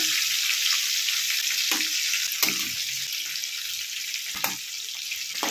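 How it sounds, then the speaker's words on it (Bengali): Prawns frying in a pan, a steady crackling sizzle with brief louder spits and stirring scrapes, close and continuous without talk. "এখানে দেখো মাছগুলো ভাজা হয়ে গেছে, চিংড়ি মাছগুলো"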